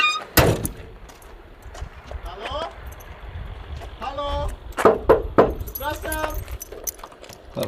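Keys jangle and a door clunks while a 1969 Chevrolet Camaro is being locked, with several metallic rattles and thumps close by and people talking in between.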